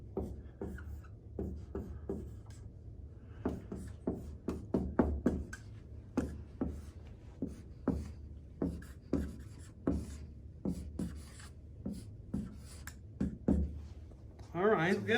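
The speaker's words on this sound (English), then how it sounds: "I want to film you writing this." A pen writes by hand on paper close by, making a series of quick scratchy strokes and taps in an irregular rhythm, with a brief quiet voice near the start.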